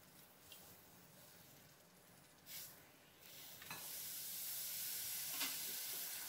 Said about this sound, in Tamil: இந்த வெல்லம் நல்லா கரைஞ்சி கொதி வரட்டும்.